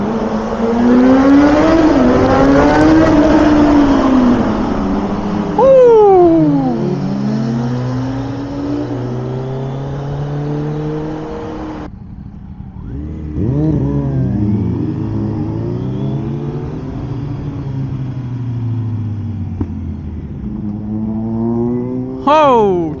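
A 2019 Kawasaki Z900 motorcycle revs hard inside a road tunnel, the engine climbing and falling in pitch over repeated throttle blips and gear changes, loud and close, with another engine joining in and people talking.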